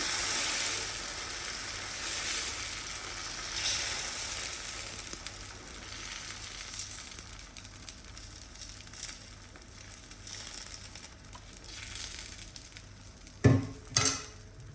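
Cucumber dosa batter sizzling on a hot tawa, with a soft continuous hiss and a sharp clatter near the end.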